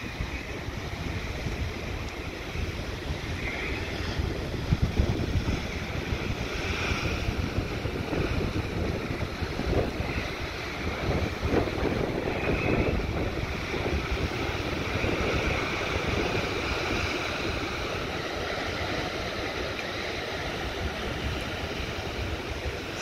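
Rough ocean surf in rough seas crashes against rocks in a constant roaring wash with periodic surges, mixed with gusty onshore wind noise.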